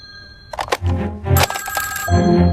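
A telephone rings in short electronic bursts as a call is placed, close and clear, with brief voices between the rings.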